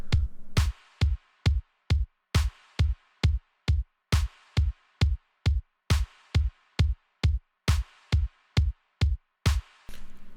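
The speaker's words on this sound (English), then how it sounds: "The kick is just on every beat, and the clap is on the 3 and the 7." An electronic drum beat made in FL Studio: a punchy kick hits steadily on every beat, with sharp claps on the third and seventh steps, in a clean, even loop with no voices.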